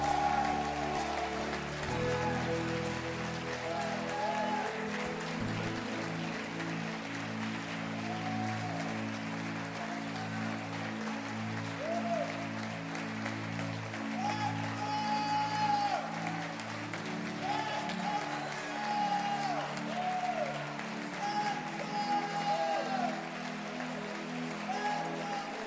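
A church congregation applauds during worship, a continuous soft wash of many clapping hands carried under sung and spoken voices and music over a long stretch.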